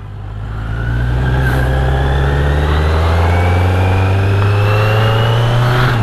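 A motorcycle engine idles and revs for a morning ride, loud and close, with a steady throaty drone that rises in pitch as it accelerates, alone without voices.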